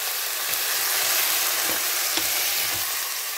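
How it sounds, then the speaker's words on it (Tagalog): Garlic sizzles steadily in a hot pan, a dense continuous frying hiss with occasional faint stirring taps, close and fairly loud with no talking. "Nagisa tayo ng bawang, friendship."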